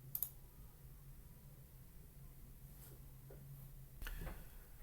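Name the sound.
mouse click verifying an entity with the green button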